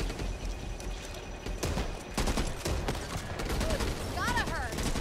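Pistol fire in the co-op zombie shooter Back 4 Blood on Xbox Series, a run of sharp shots mixed with other gunfire and game noise, with a voice speaking over the action.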